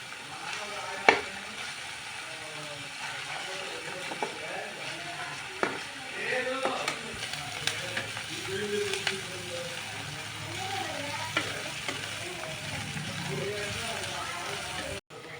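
Tomatoes cook for masala oats and are stirred in a pan, giving a continuous soft sizzle with occasional scrapes and clicks while a person talks over it.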